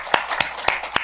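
A church congregation clapping at a Sunday afternoon service, four sharp, evenly spaced claps in quick rhythm, moderately loud and close, with no talk.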